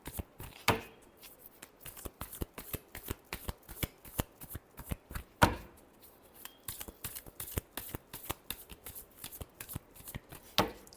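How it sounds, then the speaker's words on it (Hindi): Tarot cards shuffled by hand in a quiet room, a rapid run of crisp riffling taps with a few sharper snaps, close and clear with no talking. "last shuffle"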